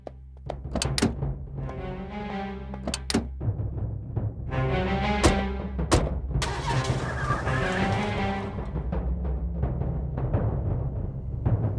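A car starts up and pulls away: a steady, close engine hum with a few sharp thunks and a brief tire skid, rising slightly as it drives off, with no voices.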